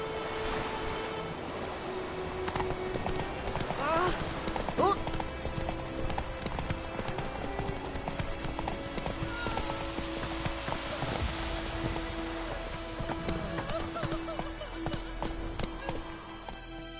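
In The Witcher 3 video game, a horse's hooves clip-clop in a steady, rhythmic gait, fairly close and continuous, with a few louder rustles and a brief voice partway through.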